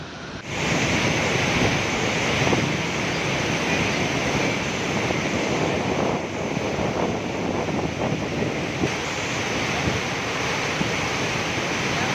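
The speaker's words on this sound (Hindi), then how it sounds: "पानी और पानी की पावर" A loud, continuous roar of rushing river water at the Head Marala headworks in Punjab, Pakistan, fills everything, steady and powerful, with no voices.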